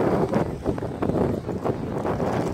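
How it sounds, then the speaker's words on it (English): Strong wind gusts across an outdoor parking lot, buffeting the microphone with a loud, rumbling, uneven roar that swells and dips for the whole stretch. "It's really windy."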